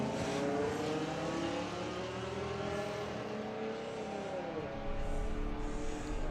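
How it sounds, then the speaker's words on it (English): A drag racing car engine idles and revs at the start line of a national finals meet, with layered harmonic engine tones rising and falling and people talking over it. "Perhaps it's got electric drive to bring it up to the start line, and then you'll hear the engine."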